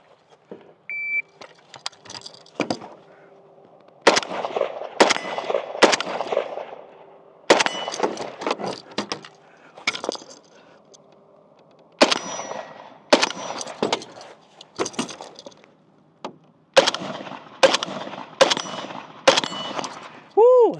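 A Zastava M90 rifle in 5.56 fires at steel targets, two shots per plate, in sharp loud bursts with metallic clangs, clustered in timed strings broken by short pauses, and a voice speaks briefly.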